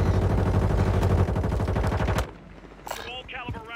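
Rapid automatic gunfire from a video game crackles in a dense burst for about two seconds, then breaks into scattered quieter shots with a voice speaking briefly over them.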